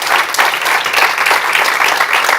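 A church congregation claps together in steady, loud applause, a dense wash of hand claps pulsing slightly throughout.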